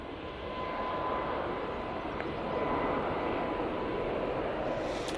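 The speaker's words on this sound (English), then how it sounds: "Right now on the roll, using the 737 MAX 8 for this flight." A Boeing 737 MAX 8 rolls for takeoff at Manchester Airport, bound for Brussels, its steady broadband jet roar building slightly and holding moderately loud and alone throughout.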